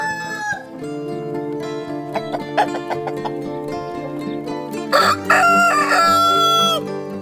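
A Rhode Island Red breeding rooster crows loudly and close in a farm pen, a long harmonic call that rises and strains, with another crow and some clucking around it.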